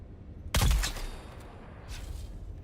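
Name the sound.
shotgun shots, from video game Dune Awakening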